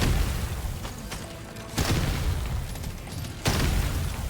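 Explosions in the video game Deep Rock Galactic Survivor come as deep booms, with two distinct blasts about two seconds apart over continuous rumbling game noise at moderate level.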